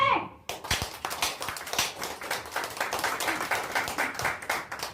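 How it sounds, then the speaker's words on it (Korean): An audience at a Korean Marine Corps veterans' inauguration ceremony breaks into clapping after a brief pause, a lively, irregular patter of many hands that carries on steadily to the end. "여러분 큰 박수 한번 어, 쳐주십시오"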